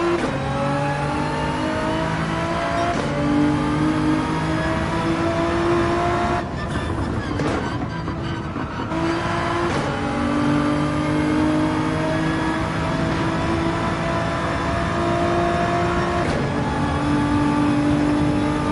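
A race car engine in Gran Turismo 7 at Dragon Trail, a GTR, revving continuously through gear changes and turns, loud and steady with brief dips as it shifts.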